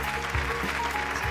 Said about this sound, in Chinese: 掌声感谢陶叔叔